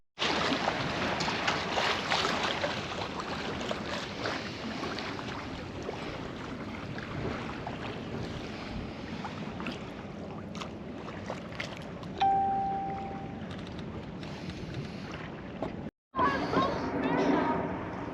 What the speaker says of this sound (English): I hope you can hear me above the wind